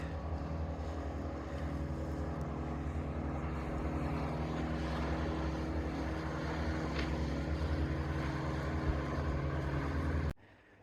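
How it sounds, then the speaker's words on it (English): A motorboat engine drones steadily at a moderate distance on Twin Lakes, California, a continuous low hum that cuts off abruptly at the end. "Lots of boats and lots of fishermen on this lake."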